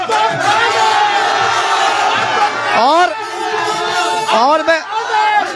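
A large, loud crowd at an election office inauguration in Ward 12, Laxmipur Patti, shouting and cheering in rising bursts, with someone speaking over the din.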